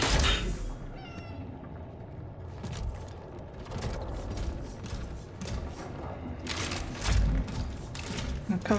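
A cat meowing in the video game Cronos, a few faint mews scattered over a steady mechanical in-game hum, with a person talking now and then.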